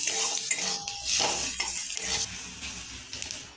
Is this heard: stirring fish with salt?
yes